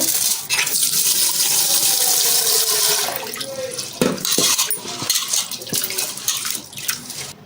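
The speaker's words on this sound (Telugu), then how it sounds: "ఒక గ్లాసు కందిపప్పు తీసుకుంటాను. ఇది బాగా కడిగి శుభ్రం చేసేసుకోవాలి." Toor dal, or pigeon pea lentils, being washed in a vessel: water sloshes and splashes continuously, loud and close, with intermittent swirling and draining, and no voices.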